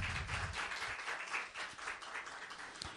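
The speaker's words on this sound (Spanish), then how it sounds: "Vamos a darle un aplauso al Señor por eso." A church congregation bursts into applause, a dense, steady wash of clapping from many hands that carries on for several seconds at full strength.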